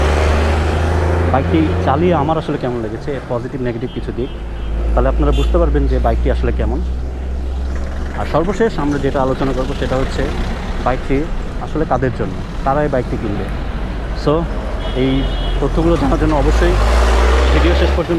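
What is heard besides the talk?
traffic passing on a main road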